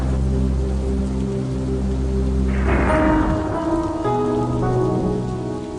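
Heavy stormy rain drumming steadily and loudly on surfaces, with a deep roll of thunder swelling midway and rumbling off while the downpour continues.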